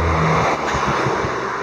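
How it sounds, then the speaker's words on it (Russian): Cars drive past on a city street, a broad rumbling road noise with a passing engine swell at the start and low thumping pulses after, close and fairly loud, no voices. "Машины тут разъездились."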